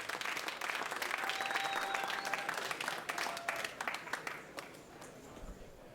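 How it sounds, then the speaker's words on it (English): Audience applause for the PCA Super High Roller poker tournament champion, a steady wash of clapping that fades over the last seconds, faint and somewhat distant. "Let's get a big round of applause for our PCA 10 Super High Roller champion"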